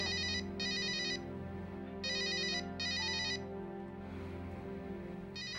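A phone ringtone plays in repeated bursts of bright electronic tones, with short pauses between rings, over a steady low hum.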